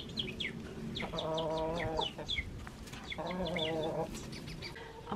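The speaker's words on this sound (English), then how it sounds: "Just the chickens being chickens." Backyard chickens in a home garden clucking and chattering close by, with two longer drawn-out calls standing out amid repeated short clucks and soft chirps.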